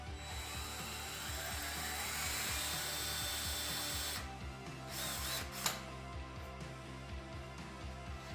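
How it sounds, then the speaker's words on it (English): A power drill bores a 1/4 inch hole into a horn for a DIY Viking war horn, a steady grinding whir with a rattling texture that cuts off partway, followed by a few brief knocks and handling clicks. "you can always go with a smaller drill and drill just like a teeny tiny pilot hole for this larger 1/4 inch to follow"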